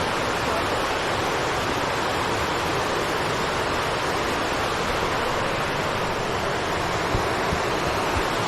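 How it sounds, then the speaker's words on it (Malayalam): Water pooled behind dam-like banks spills downward in a continuous broad rush, loud and close, steady throughout with no pauses or voices. "ഇവിടെ വെള്ളം കെട്ടിക്കിടക്കുന്ന അവിടുന്ന് താഴേക്ക് ഒഴുകുമ്പോൾ"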